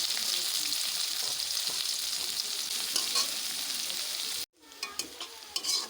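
Onions sizzling and frying in hot oil in a pan for a Bengali amudi fish curry, a steady loud crackle for several seconds, then a brief cut to quieter sizzling with stirring.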